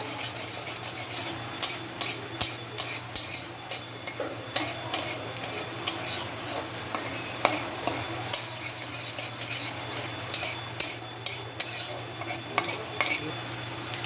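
Spoon scraping and clinking in a bowl or pan as turmeric, chilli powder and salt are mixed for a hing kachori filling, with a steady run of short, bright strikes over a low background hum and no talk.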